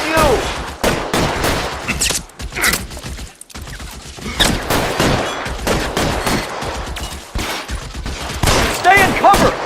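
Gunfire in the video game L.A. Noire: dense bursts of shots crack in irregular clusters across the whole stretch, loud and close, with a brief lull partway through and voices calling out among the shooting.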